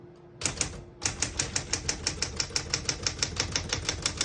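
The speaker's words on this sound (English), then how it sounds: "we're going to finish typing" Smith-Corona Galaxie II vintage portable typewriter typing at a brisk even pace, crisp key strikes clacking about five per second, close and loud after a short pause near the start.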